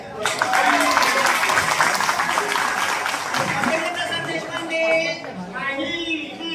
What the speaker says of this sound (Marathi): तुम्ही वाजवा टाळ्या.